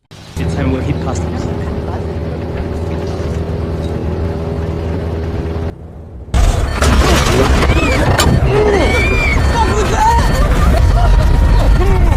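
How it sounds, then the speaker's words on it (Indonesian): A steady small-plane engine drone cuts out briefly, then a sudden loud explosion erupts into chaotic, roaring noise that carries on to the end. "Namun di tengah perjalanan, sebuah ledakan tiba-tiba terjadi."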